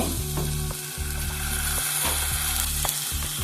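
Cabbage manchurian frying in a pan, a loud steady sizzle with rhythmic scraping stirs repeating about every half second, close up and without talk.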